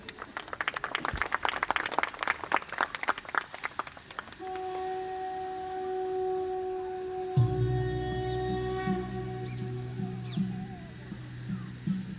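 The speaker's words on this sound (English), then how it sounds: "Let's give them a big round of applause." Crowd applause at a school's annual sports day: brisk, dense clapping for about four seconds, then it stops and sustained ringing tones take over.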